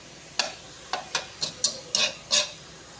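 Ground meat sautéing in a pan is stirred with a utensil, making about seven separate scraping strokes, each rising and fading, over a faint steady sizzle.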